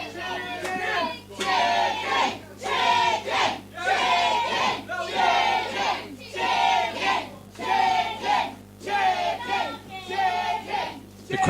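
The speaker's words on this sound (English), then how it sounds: "Crowd here getting on Steve Manelli's case just because he showed some sympathy towards his own son." Wrestling crowd in Teynham, England, jeering at wrestler Steve Manelli in loud rhythmic bursts, repeated chant-like shouts roughly every second with short gaps between them, close and steady throughout.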